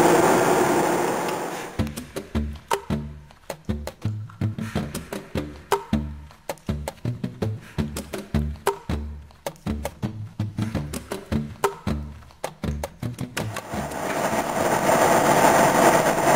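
An electric-converted car drives while the driver shifts from second into third gear. Rapid clattering mechanical pulses and low drivetrain tones run steadily, with smoother road rumble at the start and end.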